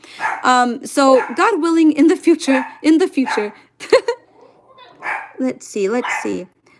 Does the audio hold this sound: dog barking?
yes